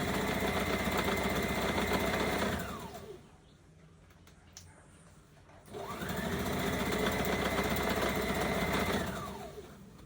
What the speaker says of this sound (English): Continue sewing the hem.